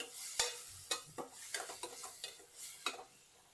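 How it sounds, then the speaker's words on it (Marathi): Masala for a Konkani crab curry being stirred in a pan, a series of irregular scraping strokes over a soft background sizzle, close and moderately quiet with no one talking. "तर पुन्हा एकदा मसाला आपण हा ढवळून घेऊया"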